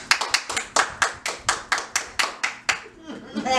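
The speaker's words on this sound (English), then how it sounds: "now we're gonna give him 2 claps" Hand claps ring out in a quick, uneven run of about a dozen sharp slaps, close and punchy, before they trail off. Faint background noise sits at the end.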